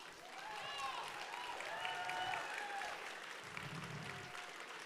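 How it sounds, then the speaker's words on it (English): Crowd applause and cheering at a FIRST Tech Challenge robotics state championship in Connecticut, fairly faint and distant, with whistling tones and voices mixed through the clapping. "everyone, please cheer for your favorite mentor"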